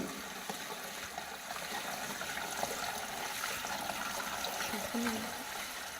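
Water poured in to fill a beer tap cooler machine holding about 20 litres, with copper and stainless steel coils, a steady continuous trickling gush running close and moderately quiet throughout.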